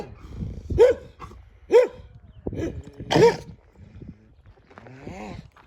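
A dog barks several times in short, sharp bursts nearby at a chicken coop, with a few softer yips and a whimper in between.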